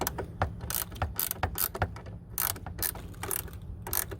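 A ratchet tightening the battery hold-down screws on a 2014 Nissan Murano, close rapid clicking bursts in repeated short runs with brief pauses between strokes.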